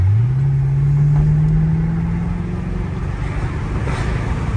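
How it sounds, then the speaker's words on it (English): A Mercedes SL500 fitted with a Lorinzer kit accelerates hard, its engine note climbing steadily in pitch with rising revs before levelling off near the shift, loud and close with no talk over it. "The RPMs are going up pretty high before it shifts."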